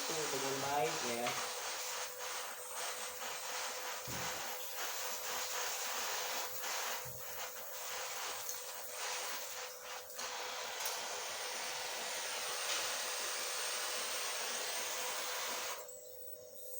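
An oxy-fuel welding torch flame hisses steadily and fairly loud through nearly the whole stretch, a continuous broadband rush with small flickers, cutting off sharply near the end.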